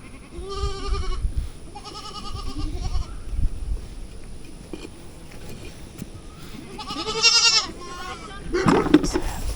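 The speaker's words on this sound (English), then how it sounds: "The kids, or baby goats" Several young goats bleat in high, wavering cries, a few calls spaced across the clip, close by with some background noise and faint voices.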